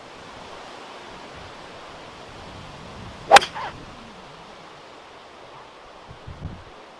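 A single crisp strike of an Orka Reflex hybrid golf club on a ball, a sharp solid click over quiet outdoor background noise.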